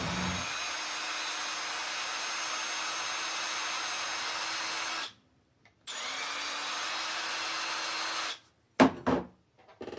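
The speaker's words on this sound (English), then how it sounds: "I just chucked these up in a drill, run them on the" A high-pitched electric drill whines steadily with a grinding rasp as a spinning metal axle part is pressed against a file, stops briefly, runs again, then cuts off into short bursts.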